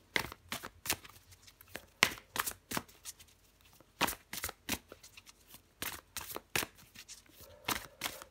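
Tarot cards are shuffled close up in a series of crisp, uneven riffles and soft slaps, short bursts separated by brief pauses, with no voice over them.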